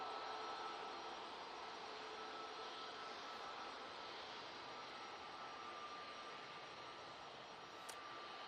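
An airliner departing from Manchester Airport, a steady broadband roar of jet engines heard from a distance, even and sustained throughout with no talking.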